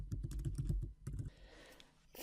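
Keys clatter on a computer keyboard, a quick run of crisp close taps for about a second, then a brief pause before a few more strokes trail off into quiet room noise, with no voices.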